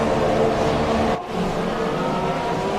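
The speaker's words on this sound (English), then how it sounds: "we managed to out drag him by putting it into rich revs and getting a better traction." Formula One race car engine from a video game, Japanese Grand Prix, held at a loud, steady high-revving drone with a brief dip partway through before climbing back to full pitch.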